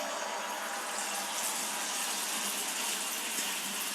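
Wheat-flour banana malpua batter poured a little at a time into hot oil, giving a steady, continuous hiss and sizzle of frying that holds evenly throughout without any voices.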